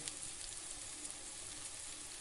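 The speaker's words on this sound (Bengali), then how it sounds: "আঁচটা মিডিয়ামে রেখে চালটাকে খুব ভালোভাবে ভেজে নিতে হবে।" Soaked Gobindobhog rice dry-roasting in a pan over medium heat, giving a soft, even, continuous hiss that stays faint and steady throughout.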